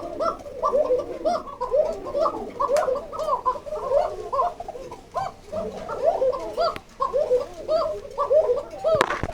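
Caged male pigeons of the King Lahori and Bashiraj breeds coo nearby in repeated throaty, gargling bursts that run on steadily, broken by a few sharp knocks.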